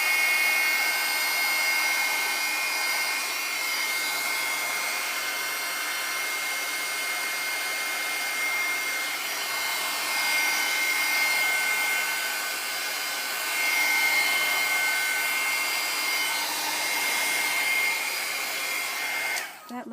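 A hair dryer blows steadily and loudly over an art journal page to dry ink sprays, a constant close whoosh that runs the whole time before cutting off at the very end.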